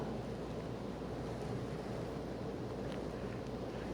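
Wind and sea waves rush in a steady, broad roar with faint splashes, heard alone at an even loudness throughout without any voice.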